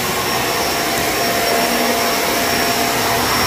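A Shark vacuum cleaner runs on carpet with a loud, steady, broadband roar and high-pitched whine, continuous and close throughout with no talking.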